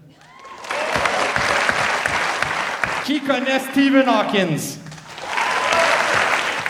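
Theatre audience at a comedy show clapping loudly in two bursts, a sustained roar of applause that breaks for a spoken question from the stage and then swells back up just as strongly.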